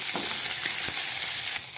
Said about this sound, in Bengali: খুব ভালো করে নেড়ে চেড়ে কাঁকড়াগুলো ভেজে নিলাম